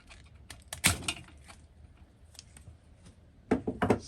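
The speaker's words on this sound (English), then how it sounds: "Try and cut across there. Do a rough cut for now." Willow bonsai branches being cut with bonsai cutters during winter work, giving a few sharp snips and clicks at close range, with the loudest bursts near the start and end and quiet handling noise between.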